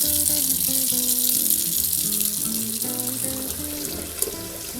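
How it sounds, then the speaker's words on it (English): A human hair topper is swished and rinsed in a basin of clean water, giving a steady splashing, running-water wash that stays fairly loud throughout. "Now we're going to do a rinse in the clean water."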